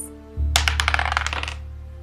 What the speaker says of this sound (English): So let's roll the dice and see what he gets.